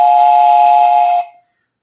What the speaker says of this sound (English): And I've used quite successfully this train whistle.